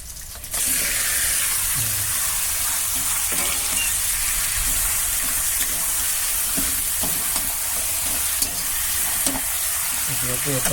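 Meat going into a pan of browned cumin paste with turmeric, giving a loud, steady, close sizzle with faint stirring scrapes under it for the whole stretch.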